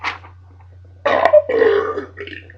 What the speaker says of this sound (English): Burped up Chinese food stinks, by the way.